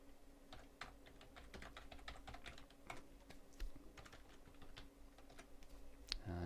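Quick, light clicks from a computer keyboard as a database record is entered, a steady patter of close keystrokes with a few louder taps at a soft overall level.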